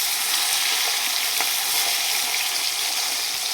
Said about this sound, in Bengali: মাছগুলো আমার সুন্দরভাবে ভাজা হয়ে গেছে, উল্টিয়ে পাল্টিয়ে সুন্দর করে ভেজে নিয়েছি